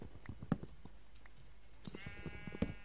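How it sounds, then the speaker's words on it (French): Sheep bleating in a video game, a few faint, quiet bleats over low background noise with scattered clicks and no talk. "les moutons ne donnent pas de viande"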